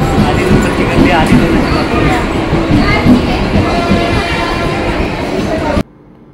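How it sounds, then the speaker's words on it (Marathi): A crowded Mumbai local train bound for Dombivli rumbles loudly at close range under chatter from passengers, then the sound cuts off abruptly near the end. "आता आपण डोंबिवलीला जायला ट्रेन पकडूया"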